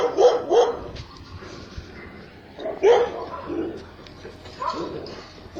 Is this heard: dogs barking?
yes